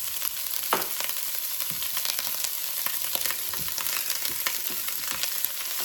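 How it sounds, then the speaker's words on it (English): A large chopped onion and chopped low-sodium ham fry in a pot for potato soup, a steady close sizzle with scattered pops and crackles, broken by occasional scraping knocks from stirring and no talking. "I'm going to stir it around"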